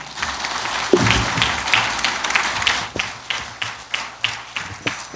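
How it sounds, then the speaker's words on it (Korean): Audience applause at a Buddhist memorial academic conference after a lecture, a moderately loud, fairly thin clapping with distinct individual claps and uneven rhythm, heard on its own without talk. "김재현 선생님께 다시 한번 뜨거운 박수 부탁드리겠습니다."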